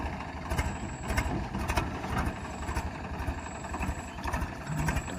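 A tractor engine runs steadily close by, a continuous low rumble with slight surges and a rattling mechanical undertone throughout.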